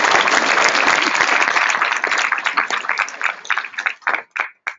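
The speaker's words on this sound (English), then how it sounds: "Give him a round of applause." Loud audience applause at a workshop session, a dense burst of clapping that thins out over the last second into a few scattered, separate claps before stopping.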